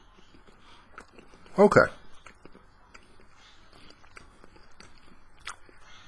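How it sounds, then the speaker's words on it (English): A bite into Tofurky meat-free kielbasa, one short crunchy burst of biting followed by faint chewing, close and brief, with a person speaking quietly. "One last bite here."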